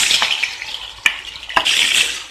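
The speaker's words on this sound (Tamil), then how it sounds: "இந்த சிக்கனை வந்துட்டு இந்த எண்ணெயில் நல்லா வதக்கி விடுங்க" Marinated chicken sautés in hot oil with a loud, close sizzle, interrupted by two sharp scraping strokes of a spoon against the pan, and no one speaking.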